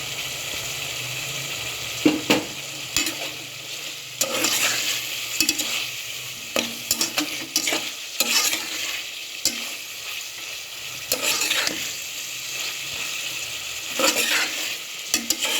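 Green chillies fried in a mutton seekh kabab karahi, a steady close sizzle with repeated sharp scraping stirs of a spatula against the wok at irregular intervals, no voices.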